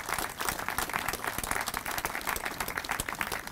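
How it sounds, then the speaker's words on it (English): A crowd at a Save-A-Lot grocery store grand opening press conference claps in a sustained, even round of applause, dense and continuous throughout and somewhat distant. "If y'all could give them a round of applause"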